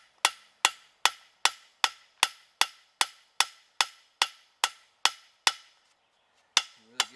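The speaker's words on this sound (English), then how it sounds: "start with my ball peen hammer" Sharp metallic ball peen hammer strikes on metal being forged into a leaf ring out in a steady, even rhythm, about a dozen in a row, then a short pause and two more blows.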